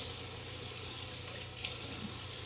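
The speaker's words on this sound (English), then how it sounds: "Let's put a little more water." Water pours steadily from a kitchen tap for cooking jollof rice, a continuous close rushing hiss with no voices.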